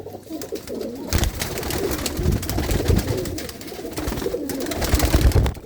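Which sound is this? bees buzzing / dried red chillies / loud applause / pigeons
pigeons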